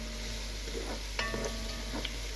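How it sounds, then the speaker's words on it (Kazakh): Onions frying in a pan for plov, stirred as they brown, give a quiet, steady sizzle with a few soft scraping stirs spread through the short stretch. "Пияздарымызды қызартып көріңіздер. Міне осылай қып-қызыл етіп қуырсаңыздар, өте дәмді шығады."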